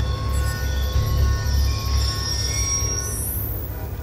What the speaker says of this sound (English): Ain't getting anything else with that train in the way.